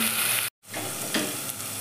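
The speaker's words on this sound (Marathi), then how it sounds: "तेल सुटलेलं आहे. आता टमाटर कांदा चांगला भाजलेला आहे." Tomato and onion masala sizzles steadily in oil for potato soybean bhaji, a dense close frying hiss broken by a brief silent gap partway through, with faint stirring scrapes.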